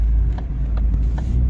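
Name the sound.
Ford Focus engine revving while driven on accelerator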